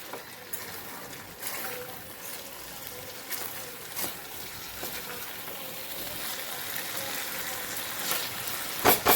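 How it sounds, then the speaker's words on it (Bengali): A little water goes into already-cooked masala sizzling in a pan, making a continuous bubbling hiss that swells and ends in a couple of louder bursts, with no talk. "এই যে এবার এটার মধ্যে অল্প একটু জল দিয়ে দেবো"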